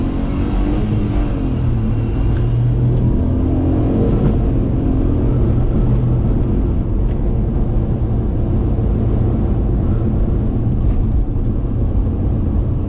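A Daihatsu Hijet kei truck accelerates hard from a green light, its small engine droning loud and steady with heavy road rumble and wind noise filling the cab throughout, no talking.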